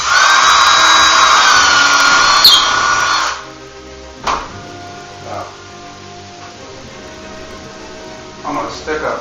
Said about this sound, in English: I'm going to drill a 1/4 inch hole right through the ceiling